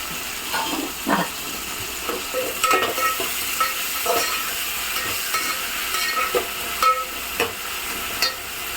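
Onion and tomatoes with salt frying and being stirred in a pan for a fish curry, a steady sizzle with scraping stir strokes throughout, close and alone.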